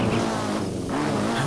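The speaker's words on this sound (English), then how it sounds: "now we get a motorcycle" A motorcycle engine in Zelda: Breath of the Wild gives a steady, loud, roaring drone that dips briefly in the middle before resuming.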